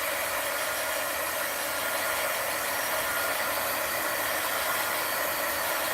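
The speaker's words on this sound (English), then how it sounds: "Then heat gun alert." A heat gun blows steadily over a magazine art collage, giving off a loud, continuous, hissing whoosh of airflow that stays constant and close throughout.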